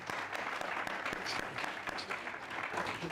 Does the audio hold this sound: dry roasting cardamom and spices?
no